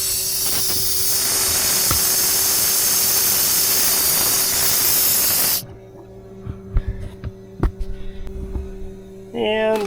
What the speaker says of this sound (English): we're still letting the air compressor catch up again